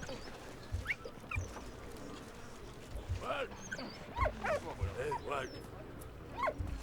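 A dog in the World War I video game Valiant Hearts whimpers and gives a few short barks and yips, scattered and fairly faint, with a person talking over it at times.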